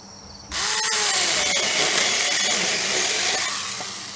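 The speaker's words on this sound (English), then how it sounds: "It's basically like a hand drill with a chainsaw blade on it." A small electric pruning saw, like a hand drill fitted with a chainsaw blade, whirs up abruptly and runs steadily, its motor note wavering as it chews through a wooden branch, fairly close.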